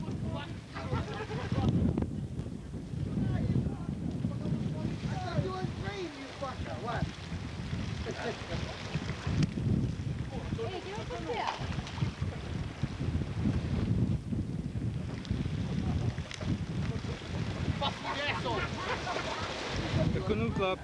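Gusty wind buffeting the microphone in a low roar on a fishing trip, with people's voices talking and calling out underneath.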